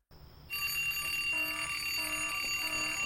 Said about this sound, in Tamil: அலாம் யாரா வச்சது இந்த நேரத்துக்கு?